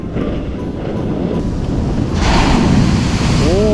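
Loud, continuous surf rolling and crashing onto a beach in Sendai, Japan, with wind buffeting the microphone and a bigger wave surging partway through.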